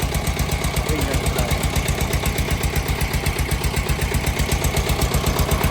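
An engine driving a sugarcane crusher at a jaggery-making site runs close and loud, a fast, even thumping pulse that never changes across the whole stretch.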